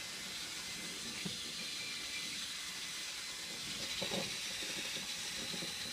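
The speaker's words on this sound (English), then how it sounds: "I'm going to go turn the blower back on. We're going to blow it out" A blower runs steadily to clean out a dryer vent, a constant loud hissing rush of air with faint low rattles underneath and no pause.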